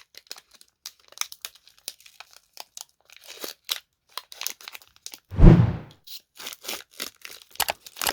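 A Pokemon Evolutions booster pack wrapper is crinkled and torn open up close, with scattered small crackles and one louder sustained rip in the middle.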